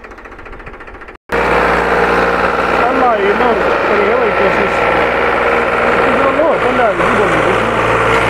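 A Powertrac 439 Plus tractor engine labours loudly and continuously as it strains up a steep ramp, a heavy droning roar close by with a voice briefly heard over it.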